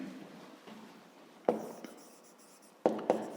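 A pen writes on paper while working a fifth-grade maths exercise, soft close scratching strokes with a few sharper taps and pauses between words, quiet and alone.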